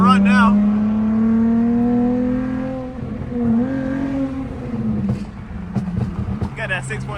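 A car with a 6.2-litre V8 engine and no hood drones loudly and rises in pitch, with a revving surge midway, as people talk and shout nearby.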